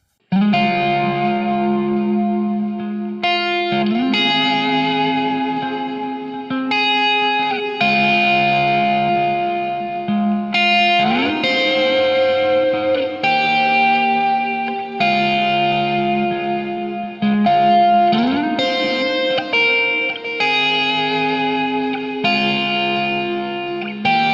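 Electric guitar played through distortion, chorus and echo effects on a Line 6 Helix, strumming a chord progression with sustained, shimmering tones throughout.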